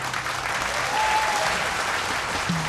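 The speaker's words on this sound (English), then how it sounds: "Another round of applause," A live audience on a televised singing competition gives a contestant a sustained round of applause: thick, even clapping throughout, close and fairly loud, with a brief low tone near the end.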